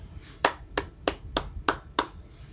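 Five to six sharp hand claps sound at an even, unhurried pace, crisp and fairly close against a faint low background hum.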